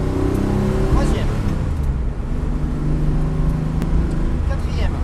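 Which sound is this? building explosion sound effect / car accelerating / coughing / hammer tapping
car accelerating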